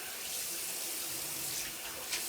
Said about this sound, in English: Now, rinse your beard off